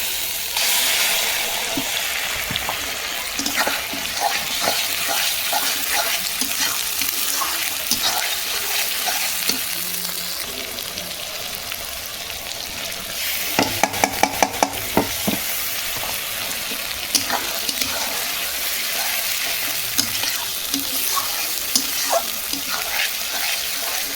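Masala spices fry and sizzle in oil while being stirred, a steady loud hiss with scraping and clinking of the spoon against the pan, including a brief burst of sharp clatter partway through.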